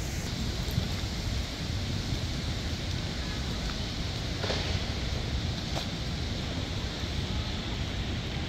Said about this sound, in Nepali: एकदम रमाइलो खालको मन्द हावा चलेको छ